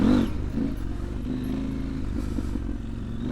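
Heavy motorcycle engine idling and pulling steadily as it clicks into second gear, a low continuous rumble with a slight rev at the start and mechanical clatter throughout, close and fairly loud.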